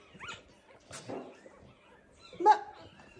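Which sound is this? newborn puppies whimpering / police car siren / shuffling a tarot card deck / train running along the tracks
newborn puppies whimpering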